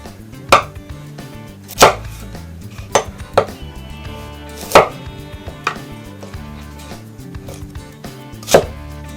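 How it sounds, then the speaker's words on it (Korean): A knife chops carrots on a board into similar-sized pieces. The sharp, close strikes come singly at uneven intervals, with no talking. "비슷한 크기로 썰어줍니다."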